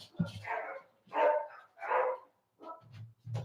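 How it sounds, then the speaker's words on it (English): Several dogs bark at an arriving parts truck, a series of sharp, close barks in uneven bursts with short gaps, some lower and gruffer than others. "I'm like, yeah, they barking at the parts truck."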